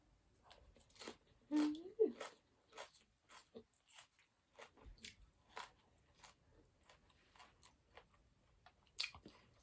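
Close, crunchy bites and chewing of crispy pork with fresh vegetables and spicy papaya salad come in irregular bursts, some sharp and loud, others faint.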